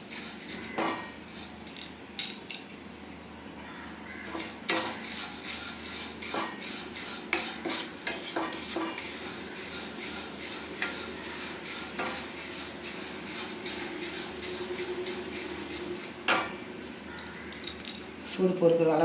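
Flattened rice (aval) being dry-roasted in a pan on a medium flame, with steady scraping and stirring and sharp clinks of a utensil against the pan throughout, moderately close and without talk.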